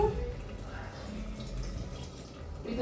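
About 200 ml of water pours into a cooking pot of mixed rice with free-range chicken broth, a continuous close splashing trickle under a faint background of kitchen noise.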